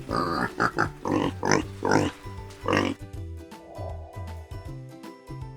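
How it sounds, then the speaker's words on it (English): A pig gives a run of close, loud oinks and grunts in uneven bursts, followed by softer snuffling grunts in a quieter stretch. "Correct! It's the pig!"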